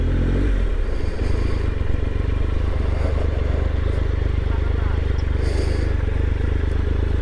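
Triumph Tiger 1200 motorcycle idling loudly up close as it is maneuvered and parked in the shade, a steady low engine rumble with light clatter and scraping throughout.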